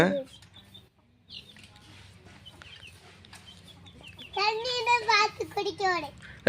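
Peruvidai country chickens cluck and call close by, growing louder and more insistent toward the end, over a soft background hum.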